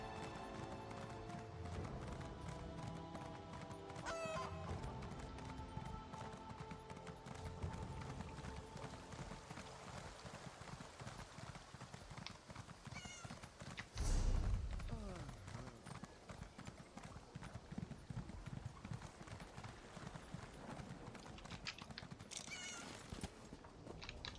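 Horse hooves clip-clop steadily in Elder Scrolls Online, a continuous rhythmic trotting under game music and effects, with someone talking intermittently over it.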